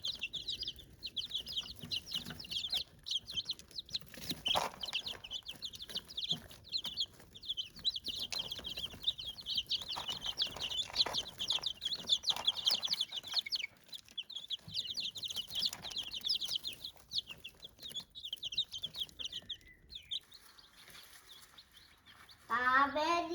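Chickens clucking around a backyard flock, a steady busy chatter of clucks and calls through the whole stretch, moderately close, with occasional rustles and wing flaps.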